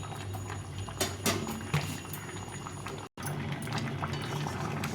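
A pot of vegetable curry with beans, eggplant and radish bubbles at a boil, giving soft continuous bubbling and popping with a brief dropout partway through.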